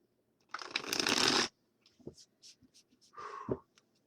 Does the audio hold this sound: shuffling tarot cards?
yes